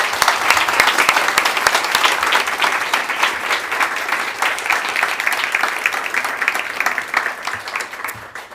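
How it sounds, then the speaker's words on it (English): Warm applause from an audience at the Nobel Peace Center, honoring Jørgen; many hands clap in a dense, sustained wash that stays loud and steady before tapering slightly at the close. "I just think we give Jørgen a warm applause for thanking."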